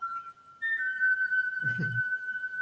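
A cartoon-style whistle sounds as one sustained, pure high tone that steps slightly in pitch and holds steady, with a short low thump partway through.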